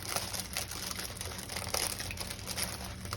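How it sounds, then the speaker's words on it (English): Gluten-free matzo crackers are ground in a food processor, making a continuous gritty, crunching rattle with a low motor drone underneath, fairly quiet and unbroken. "So we're just going to grind these up in the food processor."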